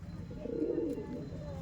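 A young Andhra, Kaldom or Kalanka breed pigeon lets out a single brief, low, rolling coo close by, faint against a quiet room hum.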